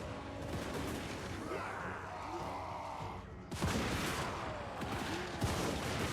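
Battle gunfire in Warhammer 2: Total War, a dense crackle of volleys and impacts striking enemy troops, steady through the opening seconds and then swelling louder and fuller in the second half.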